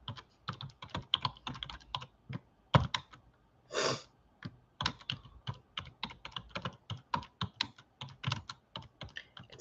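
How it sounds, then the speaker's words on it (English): A computer keyboard clatters with quick, uneven bursts of close keystrokes and short pauses between them, heard alone without any talking. "let me type it in here for you"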